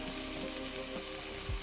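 Garlic and lime prawns sizzling in a frying pan, a steady, faint hiss of frying with a soft knock near the end.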